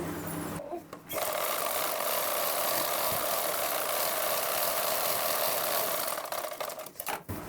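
A sewing machine stitches the lining cloth of a blouse in a steady, continuous whirring run that starts after a brief pause and stops near the end, close and clear.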